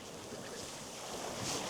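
Sea waves wash against the cliff face at Thornwick Bay in East Yorkshire as the tide recedes, a steady broadband surf rush with wind noise on the microphone, swelling slightly toward the end.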